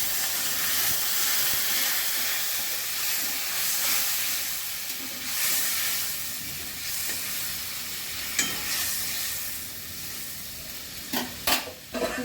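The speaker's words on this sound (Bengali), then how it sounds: "এবার জল দিয়ে দিচ্ছি।" Water poured into frying masala for a rui fish curry sets off a loud, steady sizzle and steamy hiss that fills the whole stretch, with a few clinks and scrapes of the pan near the end and no voices.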